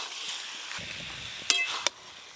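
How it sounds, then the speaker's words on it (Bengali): Fried paneer pieces being stirred into gravy in a pan: a quiet, low sizzle under soft stirring, then two sharp clacks of a utensil against the pan close together near the end. "খুব সাবধানে ভালো করে গ্রেভির সঙ্গে মিশিয়ে নেব।"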